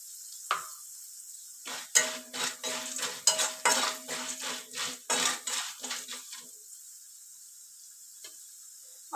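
Mustard seeds hitting a hot pan while cooking tomato rasam and potato fry, giving a burst of quick crackling pops and metallic clinks that run for several seconds, close and fairly loud, then fade to quiet.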